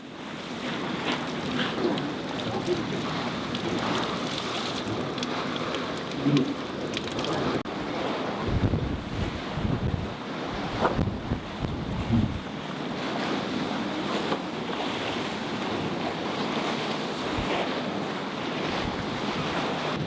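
Storm Martinho lashes a boat with wind, rain and breaking waves: a dense, continuous roar of surf and gusting wind with constant wind buffeting on the microphone, close and loud throughout.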